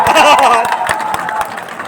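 An audience at a poetry event breaks into a burst of clapping, loudest at the start and tapering off, with scattered claps and murmuring voices mixed in.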